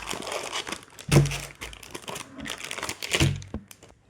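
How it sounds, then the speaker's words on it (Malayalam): An online stationery order being unboxed, its plastic packaging crinkling and crackling close by in bursts, with a couple of heavier thumps of handling and no talk. "സോ നമുക്ക് ഇതിനെയും ഒന്ന് അൺബോക്സ് ചെയ്ത് കൊടുക്കാം."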